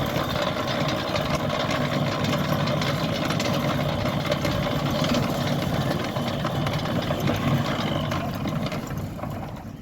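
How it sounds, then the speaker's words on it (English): A Centurion D6 Smart sliding gate motor running on a steel rack, giving a steady, close mechanical hum with a low rumble that holds evenly throughout and eases slightly at the very end. "You can see that there's no vibrations on this gate motor."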